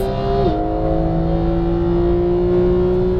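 A Porsche GT3 991 at full throttle on a track, the engine note climbing with a clear upshift, then a loud sustained rising wail as it pulls hard through the next gear.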